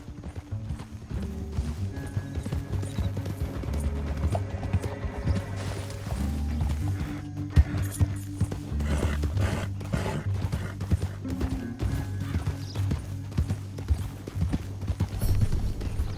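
Horses gallop in Red Dead Redemption 2, with steady clip-clop hoofbeats running throughout, close and continuous, over a low rumbling game soundscape.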